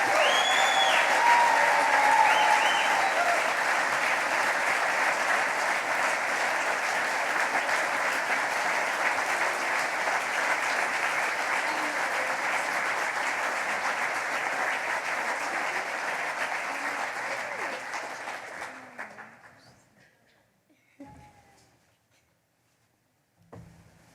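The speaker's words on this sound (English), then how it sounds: "I'd like to give them one last applause" Sustained applause from a gala audience, a thick, steady roar of clapping that holds for most of the stretch, then thins out and fades, leaving a few scattered last claps before near silence.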